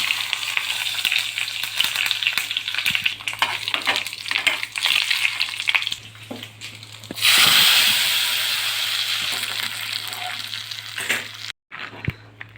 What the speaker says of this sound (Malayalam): അതിലേക്ക് കടുകും മുളകും ഇട്ടൊന്ന് കടുക് വറുത്തേക്കാം.